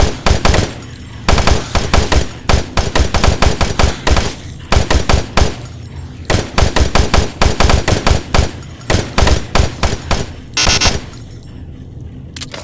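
Sustained automatic machine gun fire from DOOM 3, loud rapid bursts repeating in dense rhythmic volleys with brief gaps, ending in a short crash and a quieter tail.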